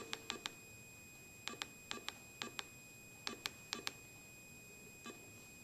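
Keypad beeps from a Whites Spectra V3i metal detector as a phone number is entered, clusters of short sharp electronic bleeps in twos and threes, fairly faint and clean, with no talking.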